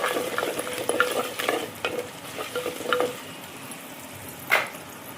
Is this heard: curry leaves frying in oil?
yes